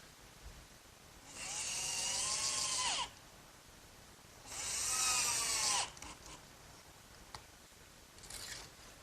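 A power drill drives screws to fix feet onto a glued work bench, two sustained whirring runs of a few seconds each with a quiet pause between, then a brief final buzz, close and alone.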